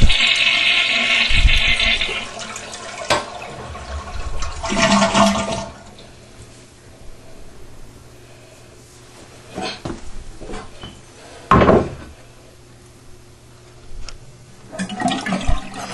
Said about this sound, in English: now let's flush the remaining water out of the tank